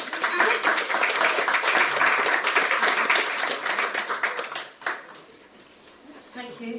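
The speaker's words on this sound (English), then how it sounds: "So, round of applause for Abbott." Audience applause for an author being welcomed at a spoken-word reading evening, dense clapping for about five seconds before fading out to a quiet room.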